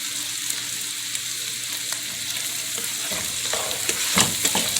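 Sausage and onion sizzle and fry in a pan for a Southern-style green beans dish, a steady close hiss with stirring scrapes and clatter growing busier toward the end, no voices.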